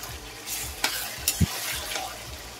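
Shredded beef pastil is stirred and toasted in a pan, spoon scrapes and taps sounding against a soft steady sizzle, close and brief, with a few sharper knocks and no voices.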